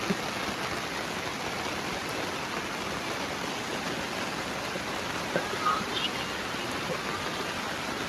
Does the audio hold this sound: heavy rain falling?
yes